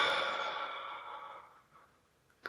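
One long, breathy exhale out through the mouth fades over about two seconds, close and soft, as part of a breathing exercise.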